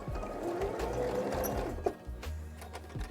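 A sewing machine stitches pyjama fabric up close. It gives a quick, steady mechanical whirr with rhythmic needle clatter that slows and starts again in short bursts, with no talking.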